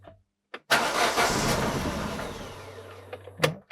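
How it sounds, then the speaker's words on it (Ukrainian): A Daewoo Lanos that had trouble starting cranks and fires up after a repair, with a loud, noisy engine start that settles into a steady idle, followed by a couple of clicks near the end. "Зараз, в принципі, я поміняв, як воно має бути, і машинка тепер заводиться."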